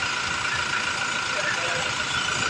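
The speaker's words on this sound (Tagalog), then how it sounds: "ganda na ng tunog ng makina niya" A Toyota Fortuner engine with 57,845 km idles right after an oil change, a steady, even hum that holds close and constant with no gaps or revving.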